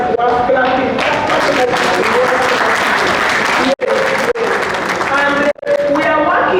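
An audience at the India–Africa Business Conclave gives loud, dense, sustained applause that fills the room, briefly broken by a couple of sharp dropouts before the clapping resumes.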